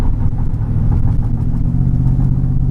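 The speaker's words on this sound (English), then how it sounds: "you can hear the car is not running right at all" A Mercedes-Benz E55 AMG W210 with a Kleemann 55-K2 supercharged engine misfires at idle, giving a steady low rumble with uneven, faintly stumbling pulses, close and continuous without talk.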